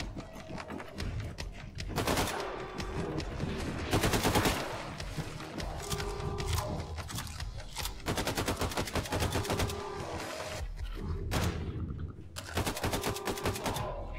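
Gunfire from the Wolfenstein 2 shooter game, with repeated bursts of rapid shots between short pauses, loud and close, over a steady background of game sound.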